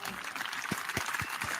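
Polite, sparse golf clap from a few people on a live hangout stream, a handful of soft separate claps spaced apart over a steady background hiss, fairly quiet and close.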